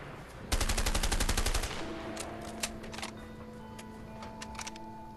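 Rapid burst of gunfire at a shooting range in the video game A Way Out, a loud, fast volley of about a second, then ringing echoes with a few scattered later shots over steady tones.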